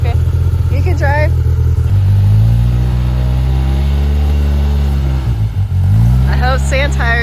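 A car engine revs while driving in snow on sand tires, a loud close drone that rises and falls in pitch across the stretch, with voices chattering briefly near the start and again at the end.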